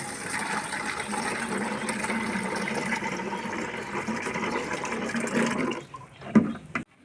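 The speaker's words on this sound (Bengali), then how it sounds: "আমি এই তরলটাকে তরল সারটাকে আমি এবার জালের মধ্যে ঢেলে দিচ্ছি" Liquid plant fertilizer is poured into a jar in a steady, continuous watery splash lasting about six seconds, then trails off into a few short knocks and drips, fairly quiet and close.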